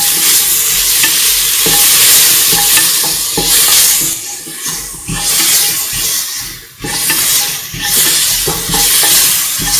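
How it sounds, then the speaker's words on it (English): Tomato pieces and a mixture being sautéed and stirred in a pan for a duck and coconut milk rice dish, a loud close sizzle with repeated rhythmic spatula scrapes and stirring surges. "Saute and mix."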